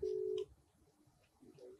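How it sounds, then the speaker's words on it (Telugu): A phone call connects with a single steady dialing tone, then falls to faint low background with soft murmurs, no clear ringing pattern after the tone. "రింగ్ అవుతుంది"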